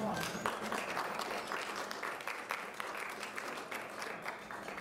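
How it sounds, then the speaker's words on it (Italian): Applause fills a press conference room, a steady crackle of many hands clapping at a quiet, even level, with faint voices beneath it. "Possiamo fare un applauso Luis Antonio"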